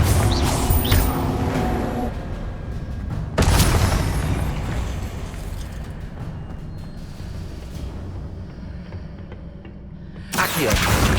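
Confringo fire spell explosions in Hogwarts Legacy go off as heavy booming bursts at the start, after about three seconds and near the end, with a rumbling, crackling tail under each blast.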